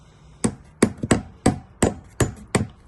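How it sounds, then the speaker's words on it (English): A tin knocker hammer taps vice grips clamped on a rusted fuel hose of a 2003 Chevy Trailblazer LTZ 4.2 I6, making seven sharp metallic knocks at a quick, slightly uneven pace, close and loud. "I want to twist this and try to tap the vice grips at the same time to get that hose to pop off"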